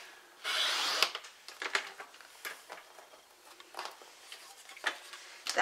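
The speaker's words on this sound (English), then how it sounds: "I'm going to pop this in my trimmer and I'm going to just trim off this long edge" A paper trimmer cuts a thin strip off the long edge of a handmade card, starting with a short sliding swish followed by small ticks, taps and rubbing clicks close by.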